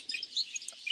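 Parakeets in an aviary give a busy tangle of high, thin chirps and tweets, several birds calling at once at moderate loudness with no speech.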